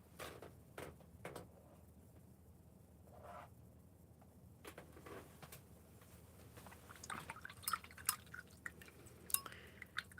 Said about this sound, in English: Just give the brushes a good rinse.